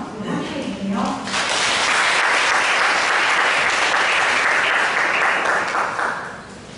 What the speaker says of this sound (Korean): 큰 박수로 함께 해주세요